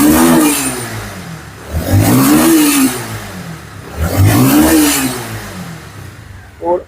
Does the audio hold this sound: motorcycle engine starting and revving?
yes